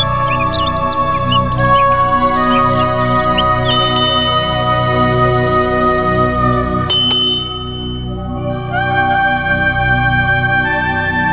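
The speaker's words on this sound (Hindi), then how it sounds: "लव बर्ड्स की मीठी चहक" Lovebirds chirp and tweet steadily in a dense, bright chorus over a continuous tonal background with a faint bell-like ring.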